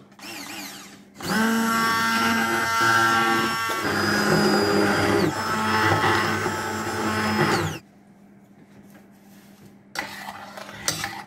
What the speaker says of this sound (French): Et on va déjà mixer avec un mixeur.